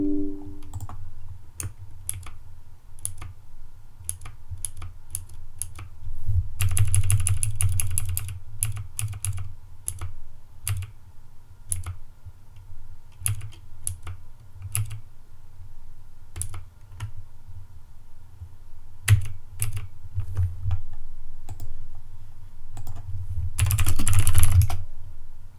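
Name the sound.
typing on a computer keyboard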